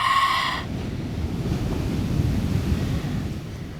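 Ocean waves wash steadily onto a California beach, a continuous low roar mixed with gusty wind buffeting the microphone, after a brief tonal beep at the very start.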